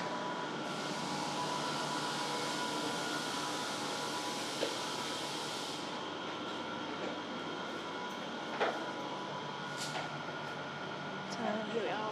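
Steady low rumble and hum of a train ride in Singapore, heard from inside a fairly empty carriage, with a few faint clicks and brief squeaks along the way and no talking.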